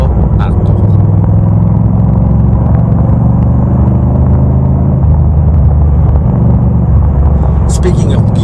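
A black Ducati motorcycle riding through city traffic, with a steady, close engine rumble and drone that holds throughout, plus passing traffic noise around it.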